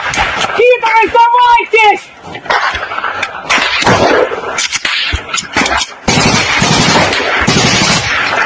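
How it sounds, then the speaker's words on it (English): Gunfire exchanged between Russian and Ukrainian troops outside Kupiansk: bursts of shots and loud, chaotic combat noise, with someone shouting and yelling over the firing throughout. "This is the Russians and the Ukrainians exchanging fire outside of Kupiansk."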